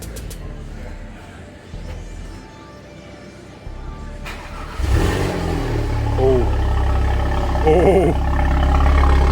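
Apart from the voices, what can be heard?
Audi TT engine cold start after Stage 2 hardware install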